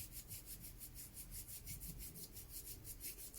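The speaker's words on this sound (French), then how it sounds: "on va frotter l'espace entre les doigts et en même temps la paume frotte le dos de la main" Bare hands rubbing together, the palm of one sliding over the back of the other and working between the fingers, a steady soft rhythmic swishing close up with no voices.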